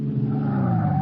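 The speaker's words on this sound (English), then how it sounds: "I slam on the brakes." A sedan brakes hard and skids in a radio drama sound effect, a loud sustained tire-and-engine roar with a rising squeal, heard alone and close for about a second.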